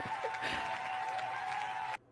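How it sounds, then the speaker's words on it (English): A short burst of clapping applause from a small group, dense and steady for about two seconds with a tone in the background, then cut off abruptly. "Little claps. Clap it up."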